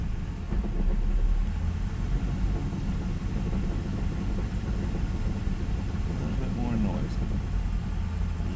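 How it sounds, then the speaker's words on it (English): A 2002 Camaro SS engine running in sixth gear while stationary, a steady low rumbling drone held throughout, with a voice talking over it. "Fourth and fifth are a little bit more noisy and rattly. And there's sixth gear."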